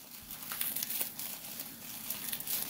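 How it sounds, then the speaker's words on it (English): Heavily taped bubble wrap being torn open while unboxing silver bullion, giving a steady close crinkling and crackling with small tearing bursts throughout, no talk. "if I can get through this highly taped bubble wrap"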